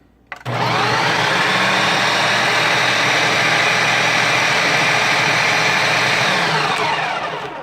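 A Ninja food processor ricing cauliflower starts abruptly and runs as a loud, steady whirring motor with chopping buzz close by, then begins to wind down at the end, no talk.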